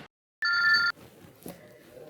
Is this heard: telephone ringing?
yes